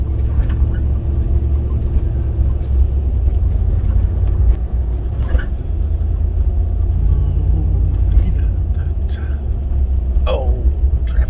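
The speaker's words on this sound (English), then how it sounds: "Oh, traffic." Road traffic heard from inside a moving vehicle on a slow drive, a loud steady low rumble of engine and tyres with cars passing near a corner and faint bursts of sound toward the end.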